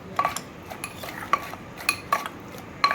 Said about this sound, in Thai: โขกโขกเข้าไปค่ะ ให้เครื่องปรุงมันเข้ากันค่ะ